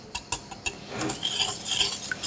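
Madeleine batter with vanilla flavouring being mixed in a bowl, with a few sharp utensil clinks against the bowl followed by a soft, quick whisking swish, faint and close without any voices.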